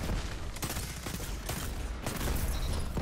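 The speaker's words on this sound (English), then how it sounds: "Missing some shots right now." Rapid volleys of gunfire from a first-person shooter match in Destiny 2, dense and loud, filling the whole stretch with overlapping shots.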